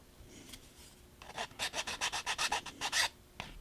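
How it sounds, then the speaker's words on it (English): A hand file rasps along the cut edge of a sheet in about ten quick, even back-and-forth strokes. The scraping sounds close and steady and plays alone. "take a file and file right where you cut so it's not raised"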